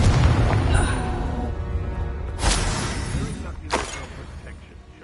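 Two booming blasts from a Confringo fire spell in Hogwarts Legacy on PS5. A strong burst is followed by a smaller one a second later, both sharp and close over game sound with voices present.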